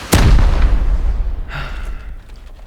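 Rocket blast in the survival game Rust at a one-sided town post: one loud, sharp explosion with a deep boom that rolls off into a long, fading rumble, and a fainter secondary crack about a second later.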